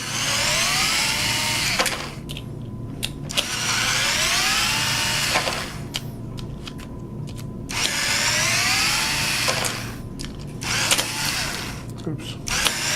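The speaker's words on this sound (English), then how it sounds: "So simply unscrew those 4 screws." A power drill whines in repeated rising bursts, spinning out four screws that hold a front motor to its platform, loud and close with short pauses between runs.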